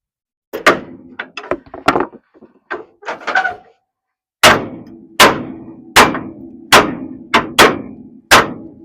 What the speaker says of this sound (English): Well, I got a big hammer. I don't think that's working too good.